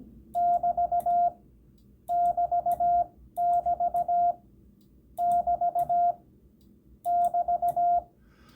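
Morse code played back as five evenly spaced bursts of a steady beeping tone, each burst a rapid run of short pulses, clear and prominent over faint background hiss.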